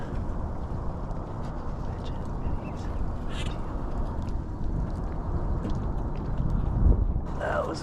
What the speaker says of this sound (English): That was a big flurry of birds.